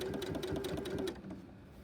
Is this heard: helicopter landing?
no